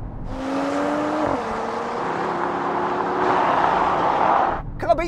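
A Volvo S60 Polestar accelerates hard in a drag race against rival sedans, a loud sustained engine roar climbing through the gears with a brief shift dip, ending abruptly.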